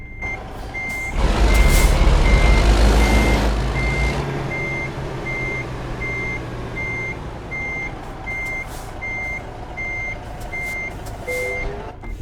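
A truck backing a delivery trailer in the American Truck Simulator video game, its reversing alarm beeping steadily and evenly over a low engine drone, with a louder rumbling surge near the start.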